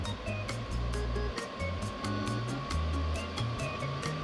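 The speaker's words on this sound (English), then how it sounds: "And I can hear the fan coming on, like as if it would be working." A steady diesel heater fan whirs continuously at close range, with a low rumbling hum underneath and faint periodic ticking throughout.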